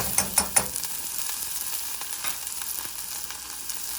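Drained and rinsed canned beans being stirred in a hot pan for kale and pistachio crostini, with a few sharp scraping clinks at the start and then a soft, steady sizzle alone.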